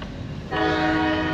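A freight train rolls by with its horn sounding, a steady loud blare with strong tonal harmonics over the rumble of rail cars, continuous and close after a brief quieter stretch of road noise.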